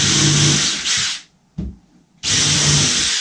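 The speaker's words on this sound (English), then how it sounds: "countersink these a little bit" A power drill countersinks screw holes in a wooden footstool, whirring loudly and steadily up close, cutting out for a brief pause with a short blip, then spinning up again.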